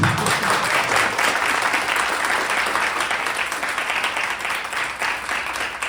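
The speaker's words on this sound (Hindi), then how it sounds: "आप सभी तालियां बजाएं" Steady, dense audience applause fills a Hindi-language stage event, a sustained loud wash of clapping from many hands that holds evenly from start to finish with no talk over it.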